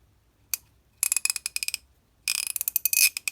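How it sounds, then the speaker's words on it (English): A vintage SK socket ratchet clicks in three short bursts of rapid, close metallic ratcheting, separated by brief quiet gaps. "they are just unbelievable ratchets and extensions"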